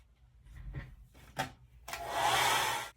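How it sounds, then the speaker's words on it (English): A hair dryer blows onto a handmade pressed leaves card, switching on after a few light rustling and rubbing handling sounds and then roaring steadily and close for about a second before cutting off. "Let me dry it real quick."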